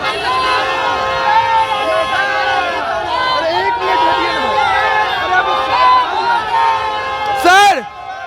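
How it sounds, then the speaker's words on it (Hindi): A huge, dense crowd at a Rajput rally in Patna, with loud continuous hubbub, shouting and chanting voices close by, plus a sharp whistle-like shriek near the end. "हम कोशिश करेंगे कि इनसे भी बात की जा सके, क्योंकि भीड़ बहुत अत्यधिक है।"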